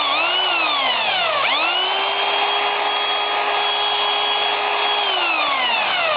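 A drill press motor whines continuously at high speed, its pitch dipping and climbing back before holding steady, loud and close.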